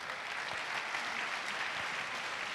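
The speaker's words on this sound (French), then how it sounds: "Des petits applaudissements pour Nicolas," Continuous applause from a keynote audience for Nicolas, an even, moderately quiet patter of many hands that holds steady for the whole stretch with no voices above it.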